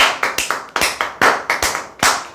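Audience clapping at a talk, a small group giving a short, loud burst of rhythmic applause close by, with no voices over it.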